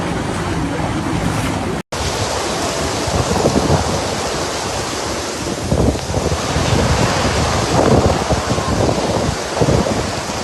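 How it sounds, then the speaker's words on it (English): A thunderstorm with heavy rain and strong wind gusts in Germany roars loudly and continuously, with gusts buffeting the microphone in waves and rumbling surges, no voices present. "In Germany, heavy rain, thunderstorms, and strong gusts of wind hit several regions."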